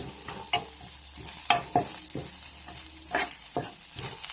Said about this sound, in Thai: คั่วให้หอมนะครับ